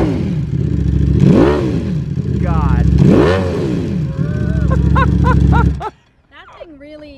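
A motorcycle with a dry clutch idles loudly nearby, then revs twice in rising-and-falling swells. A person briefly exclaims, and the engine cuts out near the end.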